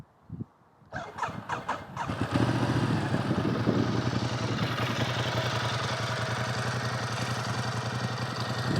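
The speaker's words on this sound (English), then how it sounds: "Turn the bike on." A Ducati XDiavel motorcycle fires up with a few cranking pulses, then settles into a loud, steady, throbbing idle close by.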